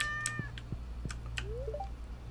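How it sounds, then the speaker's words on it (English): A cat in the farming video game Stardew Valley meows a few times, short rising calls over a steady low background hum, fairly quiet and with no talk. "Cat."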